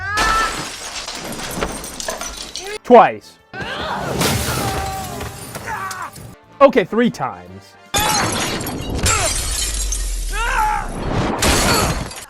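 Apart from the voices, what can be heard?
glass shattering as character is thrown through window, Uncharted video game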